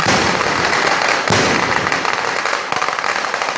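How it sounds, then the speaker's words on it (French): Dense, continuous crackling and popping of fireworks at a fireworks competition at a temple, loud and sustained, with no pauses between bursts. "Un concours de feux d'artifice somptueux, mais au bout de quelques heures, des cris et des explosions à répétition."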